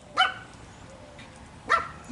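A dog gives two sharp single barks about a second and a half apart. They are moderately close and stand out against a quiet, low background, with no talk.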